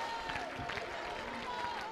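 A church congregation claps together during a sermon, a dense, steady wash of many hands beating continuously at moderate loudness, with a faint voice carrying over the top.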